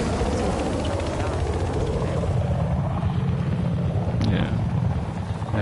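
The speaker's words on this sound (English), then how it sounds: "just chase them in the chopper now." A helicopter in a video game flies with a steady, loud rotor and engine drone that holds across the whole stretch, heard up close.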